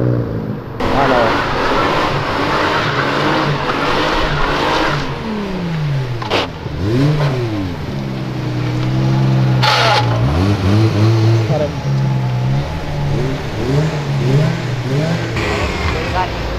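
A car accelerates and revs hard as it leaves an event, its engine roaring loud and close with rising and falling pitch sweeps. Voices talk and shout over it throughout.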